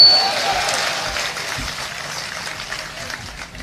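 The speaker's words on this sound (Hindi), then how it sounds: "अगली पंक्तियों पर आपकी तालियां रोक नहीं पाओगे आप" Audience applause at a Hindi comic poetry gathering (hasya kavi sammelan), a steady wash of clapping that holds for several seconds with some murmur mixed in.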